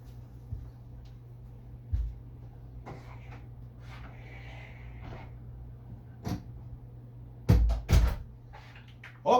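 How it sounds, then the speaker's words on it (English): A door is shut in a quiet room, giving a few faint knocks and rattles and then a sharper thud near the end over a low steady hum. "I'm going to shut my door now"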